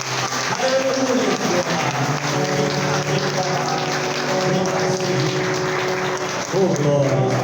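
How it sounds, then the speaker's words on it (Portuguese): A church congregation applauding loudly and continuously during a Holy Spirit worship service, steady dense clapping mixed with voices and music, with no break in the sound. "Aplauda o Espírito Santo agora."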